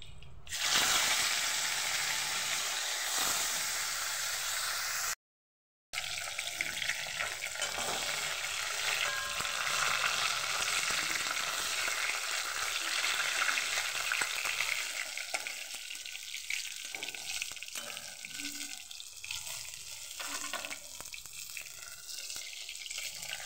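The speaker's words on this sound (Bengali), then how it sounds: "দুটো দুটো করে মাছ আমি ভেজে নিচ্ছি।" Bhola fish fry two at a time in oil, a loud, dense, steady sizzle with a brief silent break, easing into softer bubbling and crackling in the later part.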